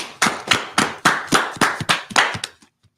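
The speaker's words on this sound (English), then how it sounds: "All right, clap it up." A group clapping together in a steady rhythm of about nine crisp, loud claps, then a brief trailing clap before stopping, with no talking.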